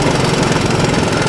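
A Honda ATC185 three-wheeler's engine running hard through the gears, a loud, close, rough and continuous motor drone with a rapid pulsing throb, no voices.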